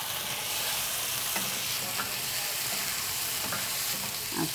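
An egg drops into sizzling spice paste in a frying pan and is stirred through it. The close, steady frying hiss carries a few soft scraping stirs, and no one talks.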